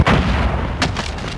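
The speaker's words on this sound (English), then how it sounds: "Enemy cruise missile incoming." Cruise missile strike explosions in Call of Duty Modern Warfare, a heavy rumbling boom with a second burst near the end, loud and close.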